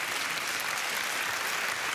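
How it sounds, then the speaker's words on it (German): A television studio audience at an Austrian year-in-review show claps loudly, a thick, continuous sheet of applause that holds steady for the whole moment without talk. "Ihr Applaus."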